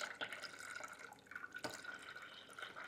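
Parmalat boxed milk poured into a bowl of creamy yoghurt mixture, a steady liquid stream trickling and splashing faintly and close by, with no talk over it.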